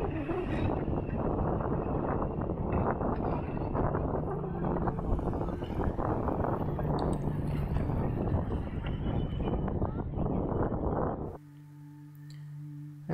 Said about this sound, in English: I apologize for the wind that you hear.